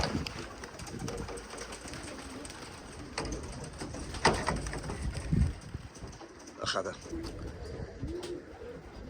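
Pigeons coo in soft, low bursts near a loft of racing birds, mixed with rustling and handling noises while someone talks over them.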